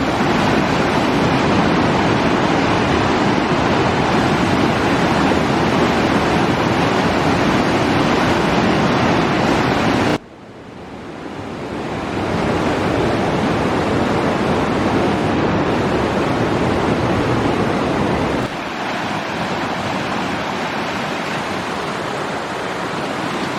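A loud, constant roar of the flooded Tabor river in Rymanów-Zdrój fills the whole stretch, broad and dense, dipping briefly before surging back just as strong.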